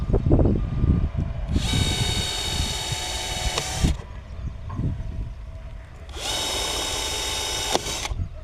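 A power drill bores holes in drip irrigation pipe in a mango orchard, with two loud, sustained high whining bursts of about two seconds each, separated by quieter handling noise.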